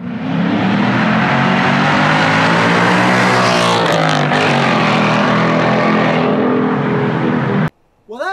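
A 2019 Ford Mustang Bullitt rated at 480 horsepower revs hard and loud up close, its engine roar rising and falling for nearly eight seconds before cutting off abruptly.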